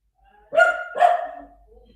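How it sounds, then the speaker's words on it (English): A dog gives two quick, close barks about half a second apart, clear and alone against a quiet room. "You could hear my dog though."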